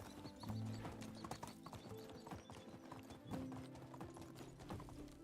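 Horse hooves clip-clop in a steady walking rhythm in the medieval game Medieval Dynasty, close and fairly quiet, with a whinny and faint game sounds mixed in.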